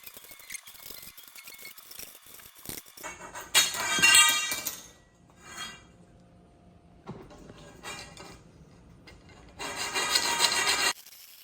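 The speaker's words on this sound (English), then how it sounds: "So we're going to cut this at 66 inches with the pipe cutter." A pipe cutter working through 3/4-inch electrical conduit during a Tesla Wall Connector installation, giving bursts of rasping, scraping friction that start and stop across the clip, loud and close with no voices.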